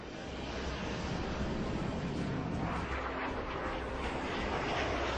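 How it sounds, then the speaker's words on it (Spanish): A Messerschmitt Me 163 Komet rocket plane taking off and accelerating, a dense, steady roaring rush that holds loud and even from start to finish, with no voices. "despega, se desprende del tren de aterrizaje, acelera hasta superar los 640 km por hora"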